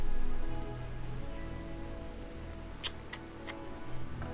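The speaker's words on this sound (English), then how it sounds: "The rain will stop, the fog will clear." Rain falls in the video game RimWorld as a constant soft hiss, with a few sharp ticking taps breaking through near the end and no speech.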